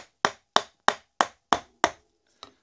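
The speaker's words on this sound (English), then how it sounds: "This is a ball peen hammer." A ball peen hammer strikes a hemp fiber block bound with MgO geopolymer-modified lime: six loud, sharp, evenly spaced blows about a third of a second apart, each with a short dull decay, then one fainter tap after a pause.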